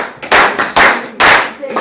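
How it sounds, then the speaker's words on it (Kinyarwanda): Church congregation clapping at a birthday celebration service, three loud sharp bursts of applause on a counted beat, each swelling and fading before the next. "duhereze Imana amashyi ya speciale"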